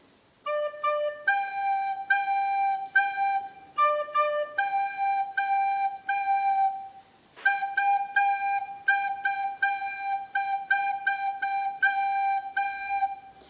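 The third line of Old Macdonald Had a Farm, built from only a low D and a repeating G, plays as quick clusters of eighth notes in clean, bright tones with short breaks between runs.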